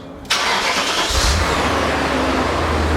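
A BMW M5 engine with new spark plugs cranks briefly, then catches and settles into a steady, close idle with a low rumble.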